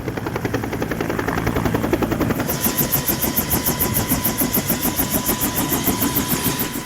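Search and rescue helicopter close by, engine whining as rotor blades chop in a fast steady rhythm, the pulsing thump growing more distinct and regular after a couple of seconds, loud and continuous.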